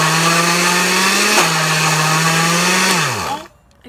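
A blender loudly whirs through a block of cheese, its motor holding a steady droning pitch with a brief dip, then winding down and stopping near the end.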